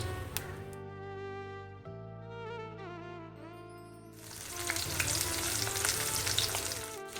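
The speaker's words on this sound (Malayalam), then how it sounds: "കറി അവിടെ തിളക്കുന്ന സമയം കൊണ്ട് നമുക്ക് നമ്മൾ നേരത്തെ മാറ്റി വെച്ച ഫിഷ് ഒന്ന് ഫ്രൈ ചെയ്തെടുക്കാം" Fish pieces frying in a pan for a Kerala-style fish curry; after a few seconds of steady tonal sound, a loud, dense sizzle of hot oil takes over and continues to the end, with no talking.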